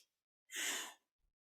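A single strong, full breath during a Kundalini Yoga kriya for energizing, a loud, airy exhale of about half a second, close and alone, followed by silence.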